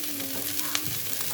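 Chicken chow mein stir-frying in a hot pan gives a steady close sizzle with a few stirring scrapes, brief and without talk.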